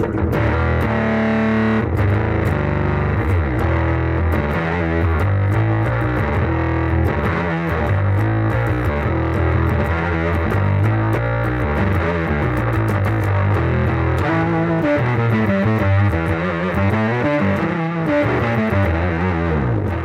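Heavily distorted bass guitar riffing through a Dirty Boy Bass Bully pedal run wide open, thick and gritty with a deep low end, playing continuously and loudly throughout.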